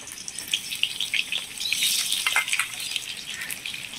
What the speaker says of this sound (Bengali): গরম হয়ে গেছে, এবার তেলের মধ্যে আমি পেঁয়াজগুলোকে দিয়ে দিলাম।